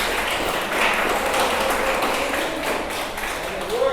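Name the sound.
congregation applauding in church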